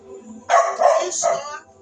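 A dog barks indoors, a few loud close barks run together in a quick burst, with faint voice sounds around them.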